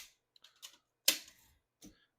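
A 1963 Olympia SM7 vintage portable typewriter gives a few sparse, crisp keystrokes, one sharp louder strike near the middle and a last clack, with quiet gaps between them.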